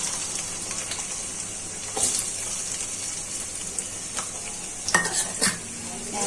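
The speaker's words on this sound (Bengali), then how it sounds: "এখন তেলটা গরম হয়ে গেছে, পেঁয়াজ কুচিগুলো দিয়ে দিচ্ছি।" Chopped onions hit hot oil in a heated wok and set off a continuous loud sizzle, with a few metal clinks and scrapes of a stirring utensil around the middle and near the end.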